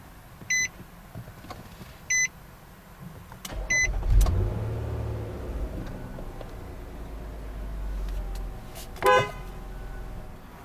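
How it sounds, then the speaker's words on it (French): A 2015 Nissan Murano SL started by push button with the brake pressed: three short chimes, then the engine cranks and settles into a low idle, with a brief beep later. "On va maintenant démarrer le véhicule."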